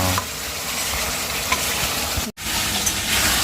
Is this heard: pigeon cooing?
no